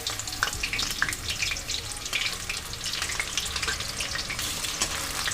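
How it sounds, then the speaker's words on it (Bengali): Chicken pieces for chilli chicken fry in oil, a dense crackling sizzle with scattered pops and occasional stirring scrapes, close and continuous with no talk. "তো দেখো এক পিঠ আমার ভাজা হয়ে গেছে অপর পিঠ এখানে আমি উল্টে দিচ্ছি"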